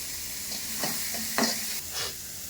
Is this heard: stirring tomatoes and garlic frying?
yes